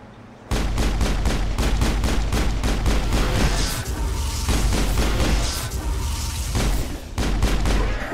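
Video game gunfire rattles in fast, dense bursts of loud automatic shots after a quieter opening, keeping up an almost continuous barrage with short breaks.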